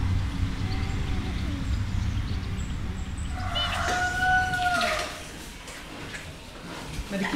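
Chickens cluck and a rooster crows at a petting farm, Kinderboerderij De Daalhoeve in Maastricht. The fowl sound moderately close within a steady outdoor hum, and a voice speaks faintly in the background.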